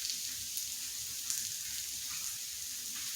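Food fries in grease with a soft, steady sizzle and scattered tiny pops, close but quiet and unbroken by any voices.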